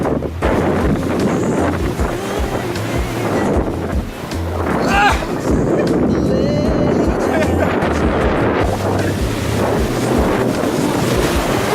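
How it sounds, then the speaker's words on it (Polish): Ocean waves on the Los Angeles coast, a loud continuous wash of surf heavily buffeted by wind noise on the microphone. "W tamtym miejscu są większe fale, a przynajmniej były przed chwilą."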